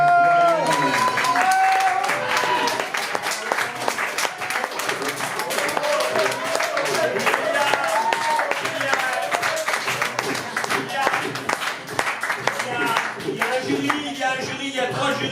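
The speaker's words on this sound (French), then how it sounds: "J'aimerais que vous applaudissez" An audience at a poetry event applauds the poets with sustained, dense clapping mixed with cheering and talking voices throughout, continuing at an even level.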